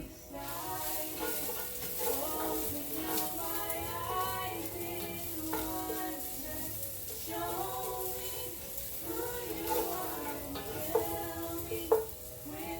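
Garlic and onions sizzling in a pan for tomato soup, a steady soft frying hiss with occasional stirring clicks and a couple of brief utensil knocks.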